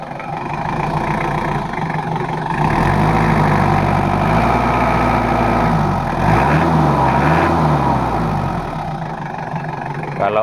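A Mitsubishi L300 diesel engine idles close by with a steady, low, rough clatter that holds an even rhythm throughout, slightly rising in intensity partway through.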